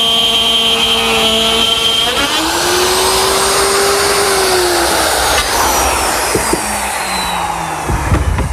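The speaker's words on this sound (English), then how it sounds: "I'm going to use my router, which has a collar and a 1/2-inch bit." A router fitted with a collar and a 1/2-inch bit cuts plywood in a workshop, a loud, steady high whine that runs without a break through the whole stretch, its pitch sliding as the cut loads and eases.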